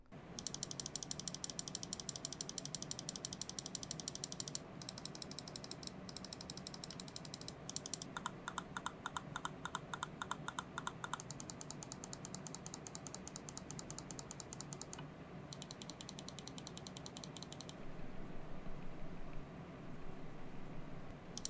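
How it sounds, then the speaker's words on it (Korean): Logitech G303 Shroud Edition gaming mouse buttons clicked in long rapid runs, crisp high-pitched ticks close up, pausing briefly between bursts with no talking. "그럼 이제 클릭 소리와 클릭 느낌을 보도록 하겠습니다."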